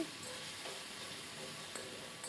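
Eggplant frying in a pan with a splash of water, giving a steady, soft sizzle that runs evenly throughout, with a faint clink partway through.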